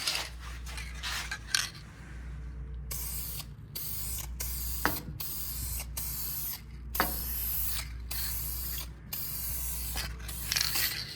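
Aerosol varnish sprayed onto the inside of a segmented wooden bowl in a series of short hissing bursts separated by brief pauses, close and fairly loud over a low background hum.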